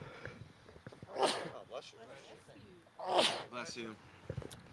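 Two sharp, explosive sneezes come a couple of seconds apart, mixed in with quiet talking nearby.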